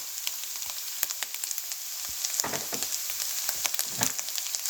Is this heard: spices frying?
yes